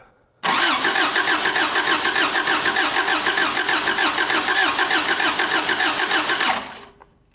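An old junkyard car engine cranks loudly and continuously for about six seconds with a rhythmic chugging pulse, then cuts off.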